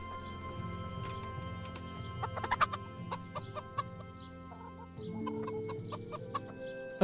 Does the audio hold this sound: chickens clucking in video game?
yes